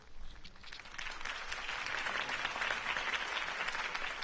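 Crowd applause at a political campaign rally in Batman: The Telltale Series, a steady, fairly faint wash of many clapping hands continuing throughout without pause.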